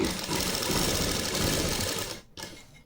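Sewing machine stitching pleats into a salwar, running in a loud steady close whir for about two seconds, then stopping abruptly with a brief restart.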